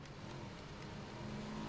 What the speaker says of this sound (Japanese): 車の音するよね